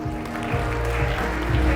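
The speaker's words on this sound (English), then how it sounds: "let's give a big round of applause for Mr. or Dr. Erwin Benedict Valencia" A keynote audience at a Philippine start-up event applauds a speaker steadily, a dense, even wash of clapping from a large crowd.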